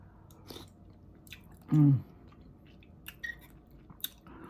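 Quiet chewing and soft squishy bites of African peanut soup with chickpeas and sweet potatoes, close to the mic, with a brief vocal hum of approval in the middle.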